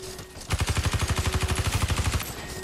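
Rapid automatic gunfire from the front-mounted machine gun of a spider tank in Watch Dogs 2, a steady burst of evenly spaced shots lasting under two seconds, loud and close, with no talk over it.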